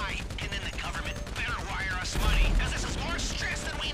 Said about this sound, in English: I'm trying to shoot the juggernaut right now.